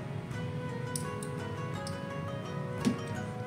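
Spice paste for fried galangal beef is tapped and pounded in a home kitchen. Light, steady ticking taps run throughout over a constant background hum, with one slightly louder knock near the end.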